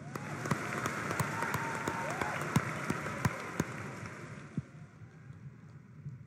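Crowd applause at a rally during the inauguration of Rajkot International Airport, welcoming Prime Minister Narendra Modi; dense, sustained clapping with sharp individual claps on top, thinning out toward the end.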